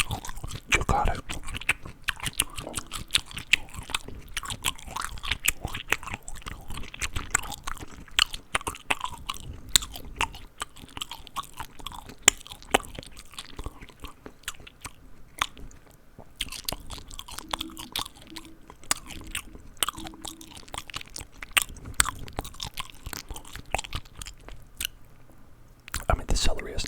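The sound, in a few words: chewing crunchy celery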